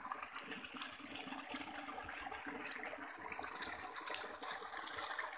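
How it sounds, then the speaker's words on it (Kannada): Borewell water gushes from a three-inch pipe on a farm, a steady, rushing splash that holds an even level throughout with no talking over it. "ಮೂರು ಇಂಚ್ ಬರ್ತಾಯ್ತೆ ಸರ್ ನೀರು"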